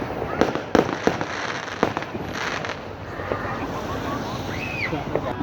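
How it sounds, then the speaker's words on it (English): Bonfire Night fireworks pop and crackle in scattered bangs at a distance, several sharp reports over a steady outdoor rumble, with a voice talking briefly among them. "Fireworks are nice there, yeah."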